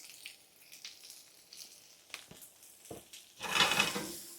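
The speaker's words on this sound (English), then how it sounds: "So we'll throw in our veggies. Yeah, that nice sizzle." Vegetables are tossed into a hot pan for yakisoba and sizzle. A soft crackle builds into a brief, bright frying hiss close by, with light clinks before it and no talking.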